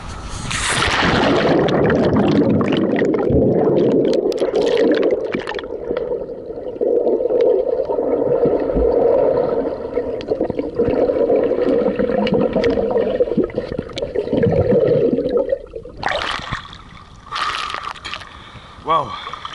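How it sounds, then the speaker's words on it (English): A camera is carried into a swimming pool as someone jumps in: a big splash, then a long stretch of muffled underwater rumble and sloshing, ending in a sharp change as it breaks the surface. Loud and close throughout. "I'm going to jump in the pool here and see how it's going to be when I go into water"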